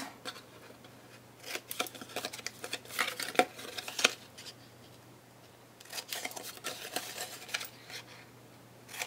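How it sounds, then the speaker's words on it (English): Scissors trimming a small piece of paper for a Halloween card project, with faint close snips and rustling in two short clusters against quiet background. "Now I'm just going to trim just a tad off."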